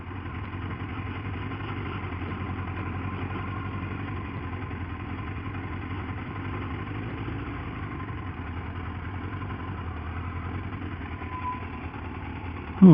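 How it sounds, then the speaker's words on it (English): A motorbike ridden off-road on rough ground beside a motor racing circuit at the Goodwood Festival of Speed, its engine holding a steady, even drone throughout, with a brief sharp knock right at the end. "off-road on my motorbike."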